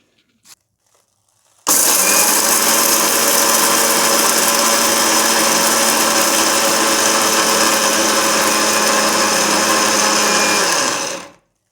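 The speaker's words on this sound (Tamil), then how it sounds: "அதனால் எல்லாம் அப்படி பண்ணிவிட்டு தள்ளி அரைக்கணும்" A mixer grinder runs at full speed grinding idli powder ingredients in a jar, a loud, steady whirring roar that starts abruptly, holds for about ten seconds and then cuts off, with no talk.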